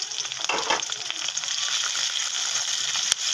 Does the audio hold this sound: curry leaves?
yes